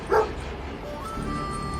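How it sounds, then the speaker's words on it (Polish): A reddish, shaggy, massive St. Bernard with a large head gives a single short bark, fairly near, followed by a quieter low hum of background ambience. "z zablaszanego baraku wyłonił się włochaty, masywny pies z dużą głową. To rudy Bernardyn Rex"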